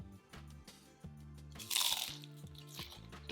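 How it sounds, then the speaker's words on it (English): Crisp crunching as teeth bite into the flaky puff pastry crust of an ube Portuguese egg tart filled with creamy ube custard; a short burst of close crunches stands out over soft background music. "The crust is so flaky and crunchy."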